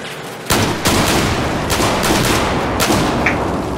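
An overpowered gun rattles off in Battlefield 4 team deathmatch on Zavod 311, with loud, dense bursts of rapid fire and sharp cracks filling the few seconds without talk.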